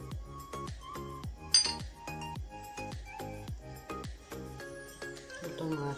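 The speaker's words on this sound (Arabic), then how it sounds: "غادي نخلط كلشي البنات." Bread dough ingredients, including sesame seeds, nigella seeds and barley semolina, stirred in a bowl, a quick run of bright clinks and taps of utensil against the bowl at a steady beat, close and fairly quiet.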